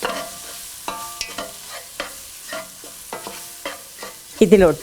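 Cleaned prawns being sautéed in a cooked-down tomato masala: a spoon scrapes the pan in repeated stirring strokes over a soft, steady sizzle, ending in a louder clatter, with one brief spoken word.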